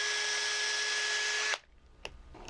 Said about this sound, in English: I'm going to use this one because I'm going to have to drill it out just a tad